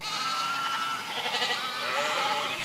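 Goats bleat in a loud, wavering cry that fills the short moment, with little else around it.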